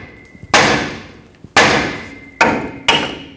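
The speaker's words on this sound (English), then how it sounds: "I'm going to hammer the knuckle to try to break this free" Four loud, sharp metallic hammer strikes on the steering knuckle of a 2011-2016 Ford F-350, spaced irregularly, each ringing briefly before fading.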